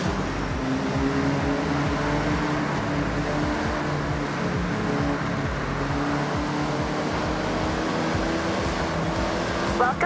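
A 1974 Honda Civic RS driving in the Forza Horizon 6 racing game, its engine a steady, continuous drone with road noise throughout, and a voice talking over it.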